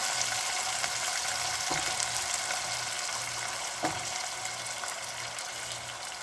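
Potatoes fry with garlic in a pan for aloo hari pyaz sabzi, making a steady close sizzle with a low rhythmic hum underneath and two brief clanks, and no speech.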